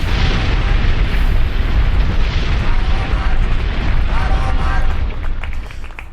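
Dense, rumbling booms and crackling bursts pile together into a loud, continuous roar of fireworks, fading slightly toward the end.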